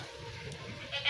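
Goats bleating on a farm beside an outdoor cooking area, a steady muffled layer of calls with a louder burst at the very end, no talk.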